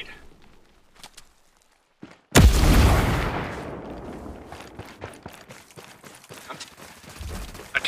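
A frag grenade in the video game Ghost Recon Breakpoint goes off as a sudden, loud, close blast after a quiet moment, its roar decaying over a second into scattered crackling gunfire and rattling debris.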